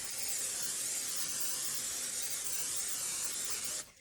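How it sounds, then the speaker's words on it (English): A steady hiss of cooking spray into a 13 by 9 inch baking pan sprays continuously for nearly four seconds, close and even, then cuts off abruptly. "I'm gonna spray that."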